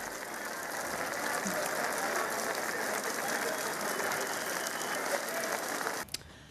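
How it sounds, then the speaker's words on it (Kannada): Heavy rain pours down in Bangalore as a steady, dense hiss that stays level throughout, then cuts off abruptly near the end. "ಸಿಲಿಕಾನ್ ಸಿಟಿ ಬೆಂಗಳೂರಿನಲ್ಲಿ ಸಿಕ್ಕಾಪಟ್ಟೆ ಮಳೆ ಹೊಡಿತಾ ಇದೆ"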